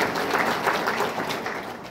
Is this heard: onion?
no